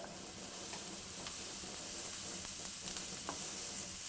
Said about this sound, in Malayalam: 2 കപ്പ് സവോളയും ആവശ്യത്തിന് ഉപ്പും ഇട്ട് മീഡിയം ഫ്ലെയിമിൽ വെച്ച് വഴറ്റുക